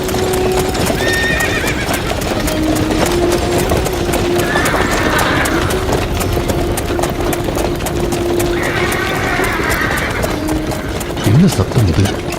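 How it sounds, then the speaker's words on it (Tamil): Horses clip-clopping at a gallop with a chariot rolling along in an epic Mahabharata battlefield setting, steady hoofbeats under whinnies and neighs, loud and close throughout with some voices in the background. "குதிரையின் களைப்பொழியும் ரதம் ஓடும் சத்தமும் செவியை பிளக்கிறதே"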